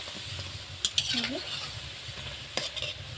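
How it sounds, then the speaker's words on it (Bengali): Gaja sweets being fried in a pan over low heat and turned over, giving a soft steady sizzle with a few sharp clinks and stirring scrapes near the start and end. "বন্ধুরা, আমি গজাগুলো উল্টে পাল্টে লাল লাল করে ভেজে নেব।"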